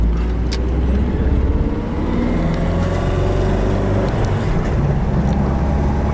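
A Polonez Abimex 1.6 GLI car drives along a road, its engine and tyre rumble a steady, loud drone heard from inside the cabin with no talk.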